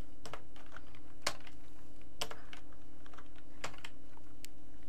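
A computer keyboard clicks out a chemical formula in a word processor, with sparse separate keystrokes and a few sharper presses, close and clear over a steady low hum.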